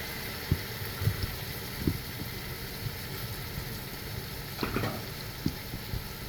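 Green chilli paste and tomatoes fry for beef biryani in a pan, a faint steady sizzle with occasional soft knocks of stirring.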